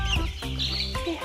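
Young chicks about two to three weeks old in an indoor brooder, giving a steady run of close, overlapping peeps and soft chirps, with no talking.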